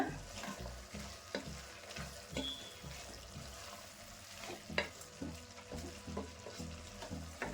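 Vegetables cooking with coriander powder and garam masala are stirred in a pan, with repeated close scrapes and clacks of a spoon over a continuous sizzle and some watery crackle.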